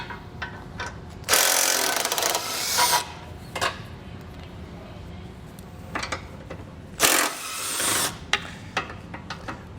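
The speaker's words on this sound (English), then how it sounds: "We'll go ahead and loosen this one, but we'll leave it in to hold the bumper right now." 16mm bolts on the bumper of a 2014 Volkswagen Jetta being loosened, heard as two long bursts of a power tool whirring up close, separated by softer clicks and tool handling.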